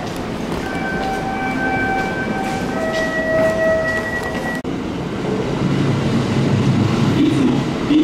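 A Kintetsu commuter train on the Kashihara Line runs loudly and close, its motors whining in steady rising tones over a constant rumble, with a sudden shift in sound partway through.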